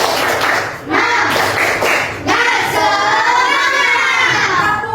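A group of children in Indonesia performs a counted clapping chant, bursts of clapping alternating with their shouted, sing-song voices, loud and close with a lively crowd feel.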